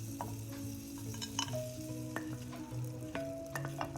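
Scraped jaggery melts in butter or ghee in a pan for nut and coconut sweets. A soft, steady sizzle runs under a low hum, with occasional clinks of a spoon stirring.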